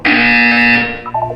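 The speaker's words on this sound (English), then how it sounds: "You will hear a buzzer." A loud, harsh electronic buzzer sounds once in the video game Portal 2, holding steady for nearly a second before breaking into a few short, softer tonal blips.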